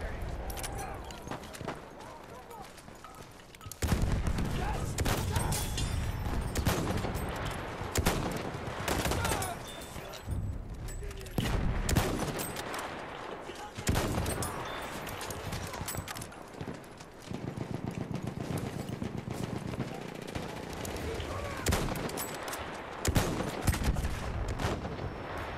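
Battlefield 1 combat on the French front brings rapid rifle and machine-gun fire in loud, sustained bursts, with occasional horse hoofbeats and someone talking over the battle noise.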